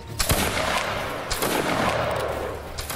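Musket volley from a line of soldiers in the Napoleonic Wars game: several loud, ragged shots crack out close together over a steady battlefield din, with no voices.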